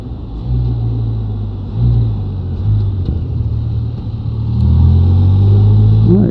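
A Can-Am Spyder RT Limited three-wheeled motorcycle cruises toward a park entrance, its engine a steady loud low drone with gentle swells in revs, heard close from the rider's seat with wind rush.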